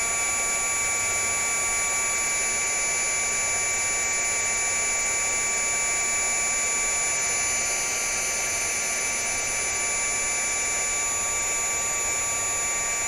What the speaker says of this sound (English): what you're going to do is just put the heat gun on this